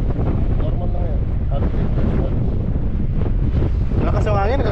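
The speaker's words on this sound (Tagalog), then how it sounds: "Lakas yung hangin, nakakatakot dun no." Strong wind buffets the microphone during an outdoor ride and jump session, a steady loud rumble throughout with a voice faintly audible underneath.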